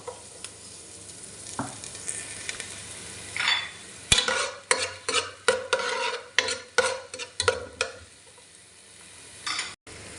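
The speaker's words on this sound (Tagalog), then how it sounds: "Unahin na natin tong sibuyas. isunod na nga po natin agad yung bawang." Onion and garlic sauté in a pan for chicken afritada, a steady sizzle under a run of loud, rhythmic scraping stirs, with a brief clank near the end.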